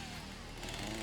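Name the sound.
chainsaw cutting in the video game Satisfactory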